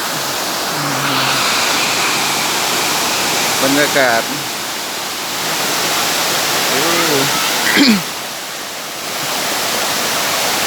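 Sai Yok Noi waterfall in Thailand pours with a loud, steady broadband roar throughout, while someone speaks briefly over the rushing water near the middle and end.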